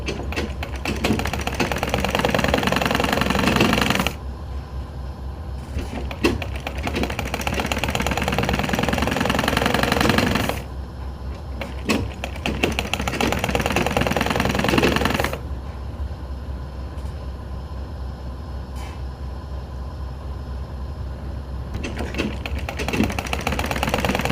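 A sewing machine stitches a fabric table mat made from scrap cloth, running in long steady bursts of rapid mechanical whirring separated by short quiet pauses.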